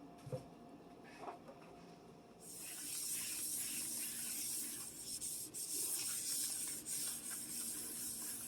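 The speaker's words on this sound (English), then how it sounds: "Now we're going to wipe down the countertop and the rest of my surfaces." A kitchen countertop and surrounding surfaces are wiped down by hand, a soft rubbing and swishing that starts faint and then turns into a steady, close hiss of cloth on the surface, with no voices.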